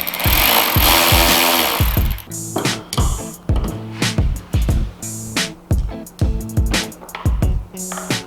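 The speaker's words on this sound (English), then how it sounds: "I always like to start the screws and then tighten them up." Screws being driven tight with a power tool while installing Hertz audio speakers on a Harley-Davidson Street Glide: a long whirring run, then repeated short rhythmic bursts of motor buzzing, loud and close.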